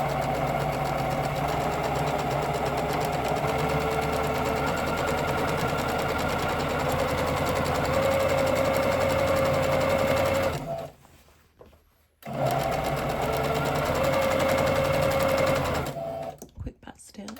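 A sewing machine stitches trousers in a fast, steady mechanical whir close by, stops briefly for a pause, then runs again for a short back stitch. A voice talks over parts of it.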